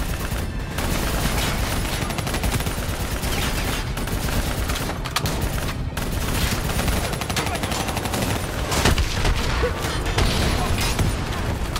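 Heavy gunfire rattles through a Call of Duty Black Ops 3 battle against a VTOL and an APC: dense, continuous bursts with booms mixed in, loud and close throughout, with shouted voices in the fray.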